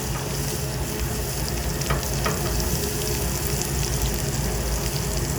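Beef short ribs sear on a very hot grill at about 550 degrees, a loud, dense and steady sizzle with occasional sharper crackles, close by and without talk.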